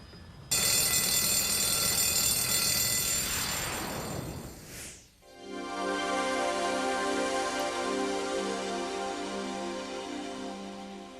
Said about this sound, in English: I'll sound the alarm and call the captain